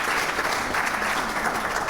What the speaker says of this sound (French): On va l'applaudir très fort pour lui dire merci.